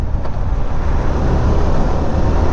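A motorbike rides along a road, heard as a loud, steady low rumble of engine and wind buffeting with no speech.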